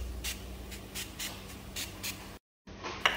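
Saffron sprayed onto cooked meat just out of a pressure cooker, heard as a series of short, faint, evenly spaced hissing spritzes over quiet background hum.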